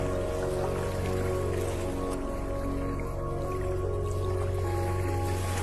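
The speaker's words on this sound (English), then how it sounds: "The sound of a fast-running stream is a challenge it cannot ignore." A fast-running stream in beaver country at dusk rushes in a steady, dense wash of water that never lets up, with a sustained tonal drone held underneath.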